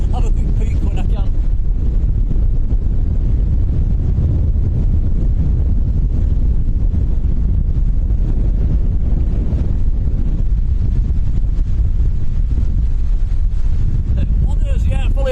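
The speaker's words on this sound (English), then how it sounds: "It's too windy to hold the laptop in my hand." Strong wind at Lanzarote Airport buffeting the microphone, a loud continuous low roar with gusts, a voice faintly under it.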